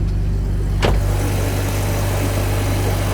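A car engine with its engine light on idles with a steady low hum, broken once by a brief sharp noise near the start.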